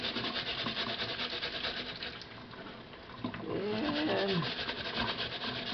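Hand scrubbing of rough residue from the uneven surface of a gourd, a steady close rasping rub that continues throughout with brief pauses and one short word spoken.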